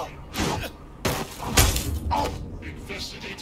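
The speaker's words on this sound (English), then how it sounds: "Just a policeman fell over and smashed his helmet" A policeman's helmet smashes in the video game Watch Dogs: Legion, a single sharp, close shattering crash midway through, among bursts of talking.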